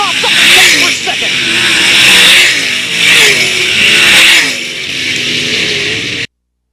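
Sprint cars racing in a heat race at the Brad Doty Classic, engines roaring and shifting pitch as they pass, loud and continuous, with a commentator talking over them.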